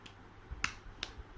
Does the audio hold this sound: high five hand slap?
yes